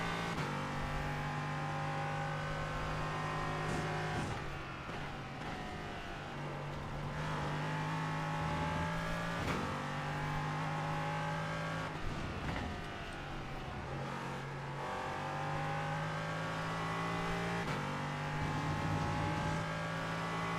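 A race car engine at Donington in a sim racing game, revving steadily with harmonic drone that drops and climbs through repeated gear shifts and corner braking, loud and continuous throughout with no talk.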